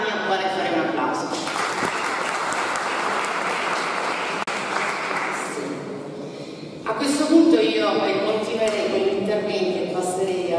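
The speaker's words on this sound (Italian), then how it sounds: "al quale fare un applauso" Audience applause at a conference in Lecce's former Convitto Palmieri, a steady broadband clatter of many hands that swells again near the end, with speech mixed underneath.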